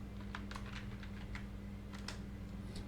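Keys clatter on a computer keyboard in a short, quick burst of close, light typing strokes over a steady low hum.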